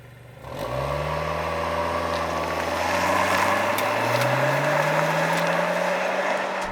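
A 2022 eleventh-generation Honda Civic Mugen with a sports exhaust pulls away and accelerates, its engine note rising steadily through the gears, loud and close with a rough, raspy exhaust tone and no talking.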